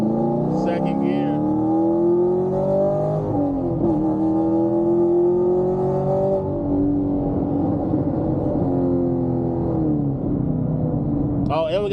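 A Chevrolet Camaro SS 1LE with loud exhaust pulls hard through second gear on a mountain road, the engine note climbing steadily for about twelve seconds with a brief dip midway, loud and close from inside the car.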